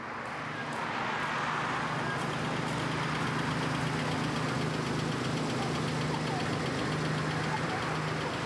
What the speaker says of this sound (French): Voilà enfin le véhicule qui s'approche.